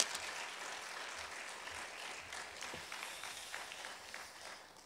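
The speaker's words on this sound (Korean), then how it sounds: "우리 목사님 나오실 때 뜨거운 환영의 박수로 환영하겠습니다" A church congregation claps in welcome as the pastor comes forward at a Sunday worship service, a steady spread of hand claps sustained at moderate distance and fading toward the end, with no talk over it.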